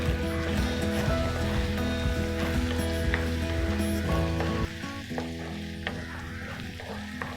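Tempering for curry leaves rice sizzles loudly in a pan, a steady crackling fry with stirring that drops abruptly to a quieter sizzle partway through, no one speaking.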